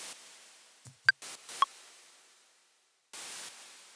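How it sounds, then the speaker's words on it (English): White-noise synth hits programmed in Ableton form a short sparse rhythm: a few clipped static bursts and plops separated by near-silent gaps, then a longer hiss burst, alone with no voices. "It doesn't matter which note you choose because white noise is the same on any note."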